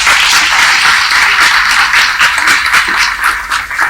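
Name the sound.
audience applause at G20 summit event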